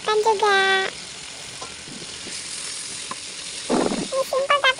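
Vegetables stir-frying in a hot pan for Singapore-style fried rice vermicelli, a steady soft sizzle and hiss throughout, with clinks and a louder scraping stir near the end, while someone speaks and sings briefly at the start and end.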